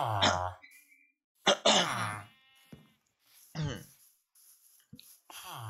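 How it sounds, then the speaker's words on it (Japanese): A few short throat-clearing bursts separated by silence, close to the microphone, with faint background tones. "咳払いをするので、ちょっと待って。"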